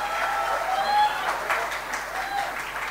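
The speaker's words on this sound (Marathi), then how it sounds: "अरे बाबा टाळ्या मारा." An audience at a stage performance of the drama Vastraharan, held for a university foundation day in Konkan, applauds with steady, moderately loud clapping throughout, with some crowd voices mixed in.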